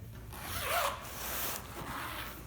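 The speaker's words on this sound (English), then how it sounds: "I'll just zip it up." A zipper is pulled shut in a couple of quick, close, soft rasping strokes, faint and brief against a quiet room.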